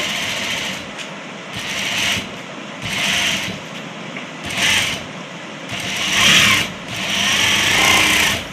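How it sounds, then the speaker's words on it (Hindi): Sewing machine stitching kattan silk fabric for a crush lehenga choli, running in several bursts of steady rapid whirring with brief pauses between them, close and alone. "अब इसकी स्टिचिंग करते हैं।"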